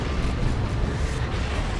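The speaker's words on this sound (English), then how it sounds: "There's that explosion." A dense, roaring explosion rumbles continuously through a Dawn of War 2 match between Space Marines and Chaos Space Marines. It is loud and steady for nearly two seconds, with no talk over it.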